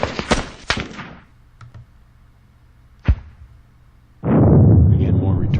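In a war video game, several sharp gunshots crack in quick succession, a lone shot follows after a pause, and then a loud sustained burst of fire rumbles.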